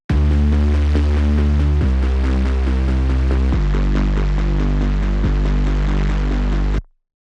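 Layered saw bass and sub bass synths in a future bass production, playing sustained low notes that change pitch every couple of seconds, full and loud, alone until a sharp stop.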